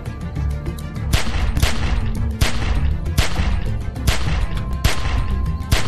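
Sustained gunfire in The Walking Dead 400 Days, a dense barrage of sharp shots cracking every half second or so over a constant loud rumble, with heavier blasts punctuating the stream.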